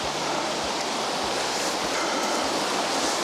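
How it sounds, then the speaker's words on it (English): River flowing on a circular walk at Goathland near a waterfall: a loud, constant broadband rush of water, steady and close, with a faint low hum underneath and no voices. "Look at that river, darling."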